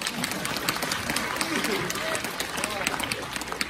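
An audience claps steadily throughout a Deyun She crosstalk evening show at Guangdelou theatre, the applause dense and continuous, with voices mixed in.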